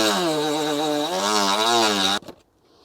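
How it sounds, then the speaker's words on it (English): A Dremel rotary tool with a cutting disc works on a BMW 335i car bumper, giving a loud, steady motor whine that wavers in pitch and then stops abruptly, followed by a few faint clicks. "I'm just going to cut it straight off here with a Dremel."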